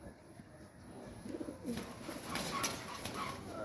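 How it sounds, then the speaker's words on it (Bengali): A racing pigeon, back at its home loft after nine months lost, coos softly several times close by, joined by other pigeons, with a general rustle and bird chatter rising partway through. "আমি অনেক খুশি কবুতরটা ব্যাক করছে, ব্যাক করে আইছে"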